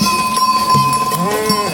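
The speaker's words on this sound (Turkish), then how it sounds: "keçilerimiz" Goats bleat close by over a steady ringing tone, likely a bell, with several short overlapping calls from the herd during a Yörük nomad migration.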